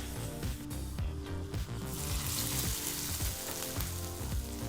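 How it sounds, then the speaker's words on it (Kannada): Hot tempering of chillies and curry leaves is poured into onion chutney, giving a loud crackling sizzle that rises into a broad steady hiss, with a faint clatter and a low tone underneath. "ಈಗ ರೆಡಿಯಾದಂಥ ಈ ಒಗ್ಗರಣೆಯನ್ನು ಚಟ್ನಿಗೆ ಸೇರಿಸೋಣ."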